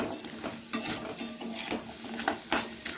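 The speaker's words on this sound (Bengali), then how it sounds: "নাড়াচাড়া করে একটু এইভাবে খুন্তি করে দেব তাহলে পেঁয়াজগুলো আর টমেটোটা একটু মাখা মাখা হয়ে যাবে" A spatula scrapes and clatters against a pan while onions and tomatoes are stirred, giving irregular metallic knocks and scrapes over a soft sizzle, close and fairly loud, with no voices.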